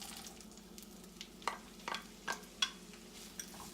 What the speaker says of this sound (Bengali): এবার এই গরম তেল আর বাটারের মধ্যে প্রথমে দিয়ে দিলাম আমি ছোট এলাচটা। ছোট এলাচটা অল্প ভেজে নিয়ে আমি এর মধ্যে দিয়ে দিচ্ছি পেঁয়াজ কুচিটা।